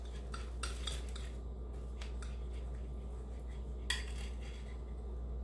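A knife slices cheesy egg toast down the middle with a few light scraping cuts and metallic clinks against a plate or pan, close and quiet over a low steady hum, no talking.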